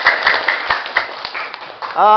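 A classroom of students claps together after a morning greeting, the sharp irregular claps running for a couple of seconds before a voice starts speaking at the end.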